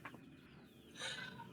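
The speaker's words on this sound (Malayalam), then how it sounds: "ഇതിനകത്ത് ഇപ്പോൾ ബാക്കിയായിട്ടുള്ള ഇപ്പോൾ കോഴികളെ നിങ്ങൾ ഇതിനകത്ത് കാണുന്നത്" Backyard desi chickens cluck softly nearby, a few short clucks and a brief squawk in a quiet home poultry yard, faint and close with no talking.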